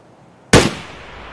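One sharp, loud gunshot from a shooter video game, cracking abruptly out of near silence and then decaying into a brief echoing tail.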